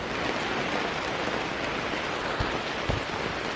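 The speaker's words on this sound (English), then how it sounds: "So yeah, it's still raining. It's really persistent now." Persistent rain falls steadily as an even, close hiss with no break, and a couple of soft low thumps come through near the end.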